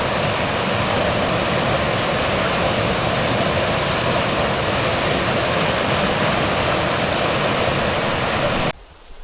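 Angel Falls waterfall at Big South Fork pouring into a deep pool, a steady loud broadband roar of rushing water that continues unbroken without voices and stops abruptly at the end.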